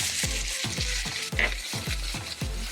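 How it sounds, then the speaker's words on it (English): Steak frying in hot oil with teriyaki sauce gives a loud, steady, close sizzle with a rhythmic series of scraping stirs and low thumps repeating about every half second. "I add some oil, I add the steak, I add some teriyaki sauce"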